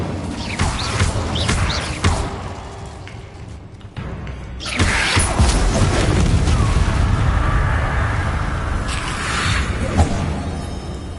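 The Incendio fire spell being cast in the video game Hogwarts Legacy, producing loud, sustained whooshing fire bursts and booming impacts that roll on continuously and densely, with brief dips between blasts.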